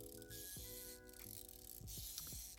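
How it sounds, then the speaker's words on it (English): The gearbox of a Starcom Skyroller toy whirs with a faint low hum, layered with soft ratcheting clicks and light mechanical ticking, heard close up and alone. "I really like the sound of this gearbox. It's just really interesting. Has this like low hum to it."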